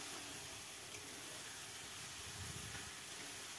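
Capsicum and cashews frying in a pan with raisins, a steady broadband sizzle and hiss that holds evenly throughout, close and fairly quiet, with no voices.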